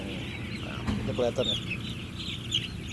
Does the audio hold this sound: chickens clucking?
yes